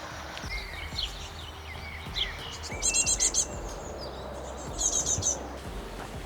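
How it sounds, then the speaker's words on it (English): Birds chirp and sing outdoors on a morning walk in Switzerland in short bright bursts over a steady soft background hiss of water, with a couple of louder trilling calls close by. "you can already hear the birds, the sound of the water"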